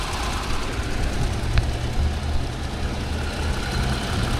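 2018 Jeep Wrangler with the 3.6 liter engine idling, a steady low rumble close by, even and unbroken apart from one brief faint tick.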